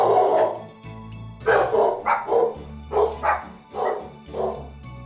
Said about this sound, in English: Okay, they're done barking